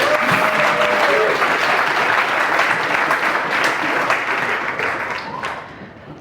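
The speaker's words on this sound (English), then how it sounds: "Round of applause, please." Sustained audience applause at a WHY 2025 hacker conference talk, loud and dense for several seconds before tapering off slightly near the end.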